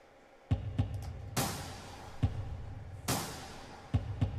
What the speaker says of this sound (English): which is like a really hard driven kit sound